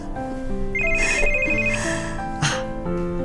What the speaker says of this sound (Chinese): 电话响啊